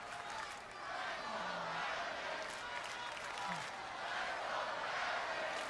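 Wrestling arena crowd in Louisville during a televised match, a broad, steady roar of many voices with rising chant-like swells, distant and continuous throughout, with a couple of brief voiced calls standing out.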